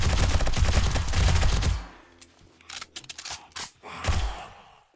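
M60 machine gun in 7 Days to Die, Darkness Falls mod, fires a loud sustained burst of rapid shots that cuts off, followed by scattered short clicks and a few sparse gunshots.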